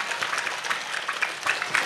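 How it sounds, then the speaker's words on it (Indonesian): Audience applause for the building committee of the Nurul Iman prayer hall during an Islamic sermon event in Indramayu, a brief steady patter of many hands clapping, moderately loud with faint crowd noise. "Saya minta tepuk tangan dulu dong buat panitianya luar biasa."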